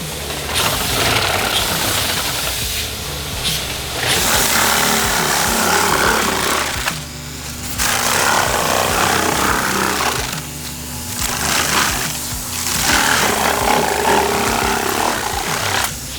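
Super Shear saw cutting foam insulation on tall walls at half throttle, a loud continuous buzzing, vibrating motor noise close by, with short dips between passes; no talking.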